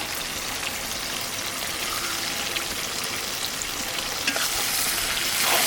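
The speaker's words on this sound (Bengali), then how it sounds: "দেখো মাংসটা অর্ধেক কষানো হয়ে গেছে" Mutton frying with dry-roasted spice masala in a pan, a dense continuous sizzle with stirring, close and steady, swelling briefly at the end.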